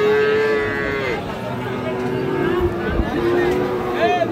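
A Friesian cross bull calf moos in long, drawn-out calls at a busy cattle market in Raniganj, its lowing rising over a steady crowd murmur and market chatter with people talking nearby.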